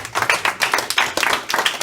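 A small crowd at an outdoor historic site ceremony in a park claps, close and irregular, with distinct individual hand claps in uneven bursts rather than a dense roar.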